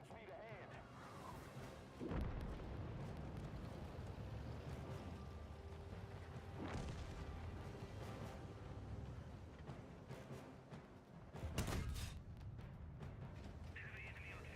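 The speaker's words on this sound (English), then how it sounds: "Heavy enemy artillery near Juno." Heavy enemy artillery near Juno in a war video game booms with a few loud blasts spread over a constant rumbling battle bed, while voices talk across much of it.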